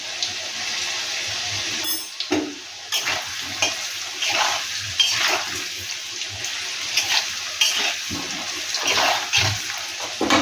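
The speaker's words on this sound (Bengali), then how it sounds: "এটা ততক্ষণ ভাজা হোক" Food fries in a pan with an uneven crackling sizzle, broken by repeated stirring scrapes and occasional wet splashes of water, moderately close.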